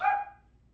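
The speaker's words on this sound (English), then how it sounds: "Phone rings, the dog barks." A single short dog bark, close and fairly loud, fading quickly into quiet.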